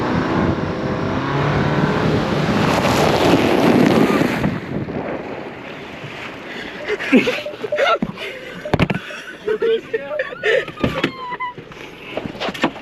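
A Jeep Wrangler off-roading through water: a loud, steady wash of engine and rushing water fills the first few seconds, then eases into a quieter stretch broken by scattered clunks and splashy bursts.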